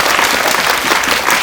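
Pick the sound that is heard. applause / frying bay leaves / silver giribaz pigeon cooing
applause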